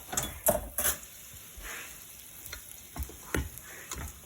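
Sausages frying in a pan give faint, soft sizzling with sparse crackles and a few sharper ticks and pops scattered irregularly, with no voices.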